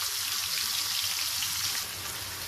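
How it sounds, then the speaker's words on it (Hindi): Chopped onion hits hot oil with spices for dhaba-style daal mash, setting off a loud dense crackling sizzle that settles into a softer steady hiss after a couple of seconds. "और अब मैं इसमें डालने लगी हूँ प्याज, जो 1 अदद प्याज काटा था वो डालने लगी हूँ और इसको फ्राई करने लगी हूँ।"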